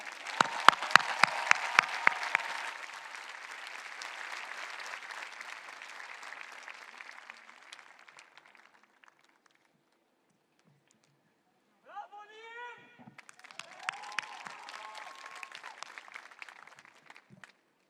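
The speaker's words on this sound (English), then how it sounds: "Please join me in applauding the class of 2024." Audience applause at a university graduation and honorary doctorate ceremony fills a large hall, strong at first and fading out after about nine seconds, then a brief voice followed by a second burst of clapping.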